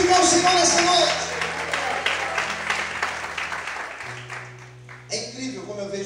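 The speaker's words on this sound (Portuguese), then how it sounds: "Você pode aplaudir a Deus nessa noite." A church congregation applauds during a sermon, a dense burst of clapping that tapers off, while music plays underneath and a voice speaks over it.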